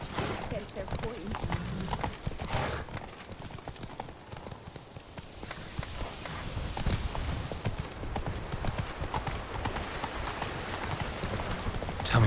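A horse's hooves clip-clop steadily in The Witcher 3 as the rider enters the capital of Toussaint, a brisk close rhythm of hoof strikes under game dialogue and ambient town noise.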